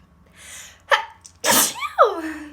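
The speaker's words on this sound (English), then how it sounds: "I have to sneeze." A single loud, close sneeze: a quick breathy intake, then an explosive burst and a squeaky, fading tail.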